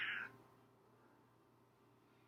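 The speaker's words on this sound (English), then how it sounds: "And here comes my cat. She's going to talk today, I guarantee it." A cat gives a short, fairly loud meow at the very start, then only quiet room tone remains.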